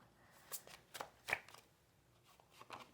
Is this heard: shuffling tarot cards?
yes